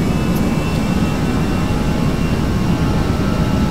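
Airliner jet engines spooling at takeoff power in a flight simulator during a runway departure, a loud, steady low roar and rumble that stays constant throughout without pause.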